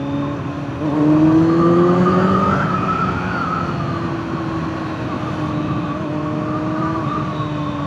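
A 2026 Kawasaki Z900 SE big bike pulls hard in second gear on the road, its engine note climbing in pitch and then holding a steady high drone, loud and close with wind noise beneath.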